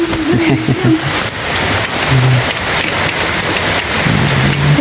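Steady heavy rain pours down continuously, a dense close hiss across the whole stretch, while a few faint low tones sit beneath it.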